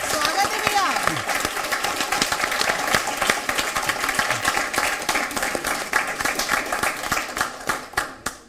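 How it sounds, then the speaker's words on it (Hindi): An audience at a poetry contest claps loudly to welcome a poet, with dense, continuous applause throughout and voices mixed in beneath it. "आप इस अनूठे कवि को जोरदार तालियां बजाकर अभिनंदित कीजिए।"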